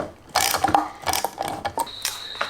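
The prop nut on a Lowrance Ghost trolling motor is tightened with a ratcheting tool, giving close, loud bursts of rapid clicking in several short runs with brief pauses and no talking.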